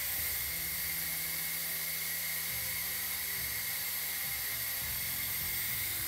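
A pump draws brake fluid through a new custom motorcycle brake line to the caliper, giving a steady, fairly quiet mechanical whine with a hissy wash above a low shifting hum, running continuously with no talk.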